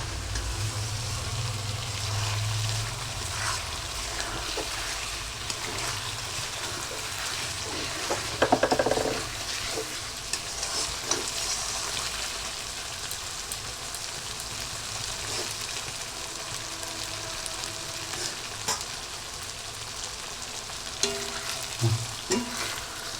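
Chicken kosha stir-fried in a pan, giving a continuous close sizzle and crackle with occasional scraping and stirring clatter.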